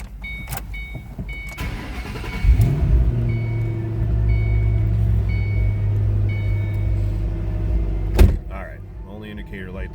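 A 2007 Ford Mustang Shelby GT500 fires up after a door thunk and brief clicks: a starter whir, then the engine catches and settles into a loud, steady low idle nearby, with a sharp bang near the end.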